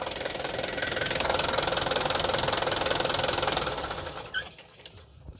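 A 2012 Hino Dutro truck engine running with a steady, buzzing mechanical rattle and heavy vibration, close and loud, easing off and dying away near the end with a few knocks.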